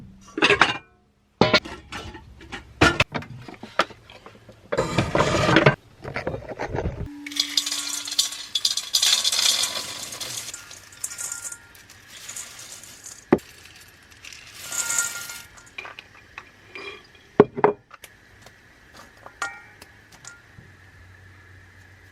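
Dishes are put away in a bus van kitchen: scattered clinks and knocks of plates and cutlery, cupboard clunks and a brief scraping rattle, close by and irregular with quiet gaps between.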